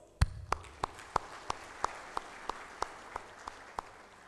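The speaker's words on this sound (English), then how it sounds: "let's start off by giving each of you a round of applause." Applause at an awards night in Colombo comes as a steady, evenly paced series of about a dozen sharp claps, each distinct and fairly close, with no voices over them.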